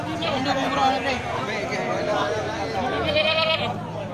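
Goats and sheep at a livestock sale bleat repeatedly over steady crowd chatter and nearby voices, the calls close and overlapping.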